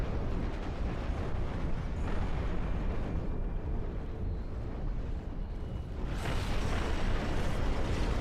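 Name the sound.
bombing run explosions in video game Ashes of the Singularity 2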